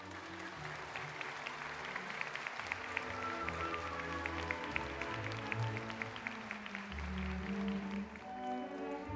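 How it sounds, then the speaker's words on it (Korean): Applause from a ceremony audience welcoming a Buddhist monk, head of the Taego Order, to the podium at a church dedication service; sustained clapping from a large crowd, fairly distant and steady, with faint background voices. "큰 박수로 모시겠습니다."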